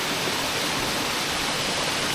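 Waterfall at Moss Force in the Lake District, a dense, continuous roar of falling water, loud and steady with no breaks.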